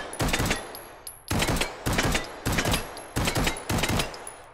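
Repeated bursts of automatic gunfire in the VR shooting game Hot Dogs, Horseshoes & Hand Grenades, about five sharp rapid volleys with short pauses between them, loud and close with no talking.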